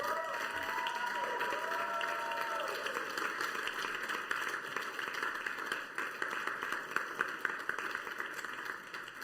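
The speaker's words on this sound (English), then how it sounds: "Let's give our workers and helpers a round of applause." A church congregation at a Sunday service claps for its workers and helpers, a dense, steady round of applause from a crowd that thins slightly toward the end.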